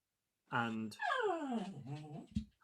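A dog whimpers indoors in a few drawn-out, sliding whines broken by short breaks, close and fairly clear, ending in a brief sharper yelp.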